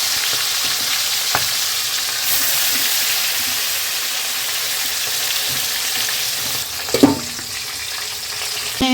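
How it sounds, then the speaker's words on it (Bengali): Tilapia fish frying in mustard oil in a wok gives a loud, steady sizzle throughout, with a few brief clatters and a louder scrape of a utensil near the end. "কড়াতে আমি সর্ষের তেল দিচ্ছি। আমি তেলাপিয়া মাছটা কড়াতে ছেড়ে দিলাম।"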